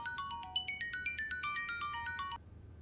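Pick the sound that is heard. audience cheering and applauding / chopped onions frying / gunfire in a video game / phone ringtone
phone ringtone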